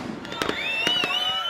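Bursts of fireworks pop and crackle, with several sharp cracks over a sustained bright whistle, playing as part of a radio advertisement for Superior Fireworks.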